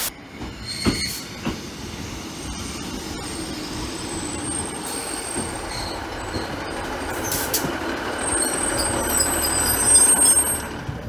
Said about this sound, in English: I have not seen this super sprinter since Central Trains.